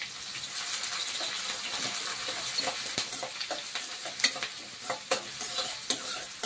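Onions, green chillies and curry leaves frying in hot oil are stirred in a pan for a chicken fry, a steady bright sizzle with scattered scraping clicks of the spoon, close and alone with no talk.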